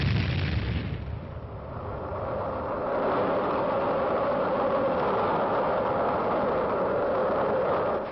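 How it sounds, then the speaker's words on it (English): A guided missile launching: a sharp blast at the start, then a sustained loud roaring rush that builds and holds steady as it streaks away. "They shoot off the guided missile."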